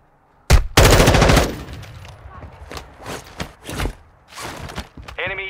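Close, loud burst of automatic gunfire in a military shooter video game, followed by scattered shots, scraping and movement sounds.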